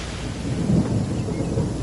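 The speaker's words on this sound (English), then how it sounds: "Given that it's raining right now," Rain falls steadily under a low, rolling rumble of thunder in the video game Genshin Impact, loud and continuous throughout, with no voices.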